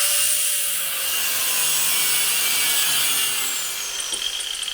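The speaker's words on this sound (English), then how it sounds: "now it's out with the grinder" An angle grinder cuts off a seized, welded-on drop link on a 2015 Toyota Corolla during front shock absorber replacement, giving a loud, continuous high-pitched metallic screech close by.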